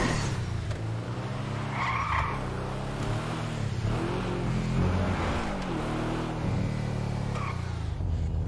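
A fully upgraded, modified car in GTA V brakes hard, and its tires squeal and skid in long, wavering screeches over a continuous engine drone, with no talk.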